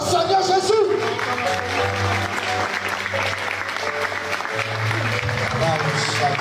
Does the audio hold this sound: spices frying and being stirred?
no